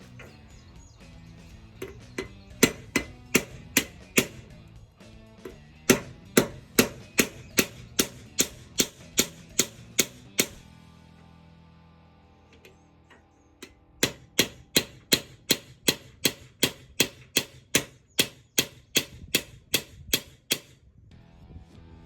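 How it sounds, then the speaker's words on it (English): Hammer blows beating down rivets on an anvil while fitting an old sickle mower blade: sharp, evenly spaced metallic strikes in two long rapid runs separated by a brief pause. "put the rivets on the anvil, flip it over, put that side down, and then you're going to beat down the other side"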